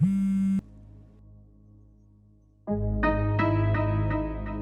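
A phone line tone sounds in long repeated beeps with a quiet gap between, then a louder tone rings on without anyone picking up.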